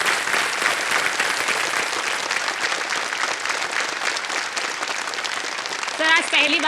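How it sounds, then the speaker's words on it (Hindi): A studio audience on a television quiz show claps in a loud, steady, dense round that carries throughout, with a brief burst of voice near the end. "ताली बजते रहे उनके लिए।"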